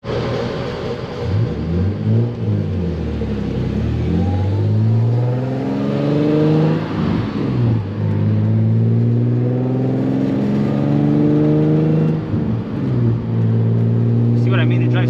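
A turbocharged Nissan 350Z engine, over 700 wheel horsepower, hums and revs through gear changes, pitch rising and falling repeatedly as it accelerates, with a smooth steady drone from inside the cabin.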